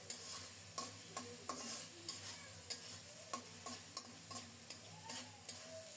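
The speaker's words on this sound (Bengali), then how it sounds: "এভাবে কিছুক্ষণ পর পর নেড়ে চেড়ে ঢেকে ঢেকে মশলাটাকে সুন্দর মতো কষিয়ে নেব।" Spice paste, masala, for muri ghonto being stirred and fried in a pan, steady sizzling with regular scraping strokes of a spatula about every half second, close and fairly quiet, no talking.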